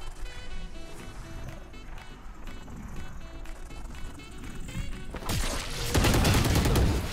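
Gunfire in a Valorant match played as Yoru: dense bursts of shots over a busy game soundscape, ending in a louder, harsher volley.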